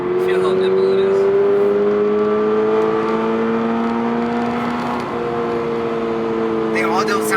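A car's engine and exhaust drone steadily while driving up a mountain road near San Jacinto, with harmonic tones that slowly rise under continuous road noise and occasional talk inside the cabin.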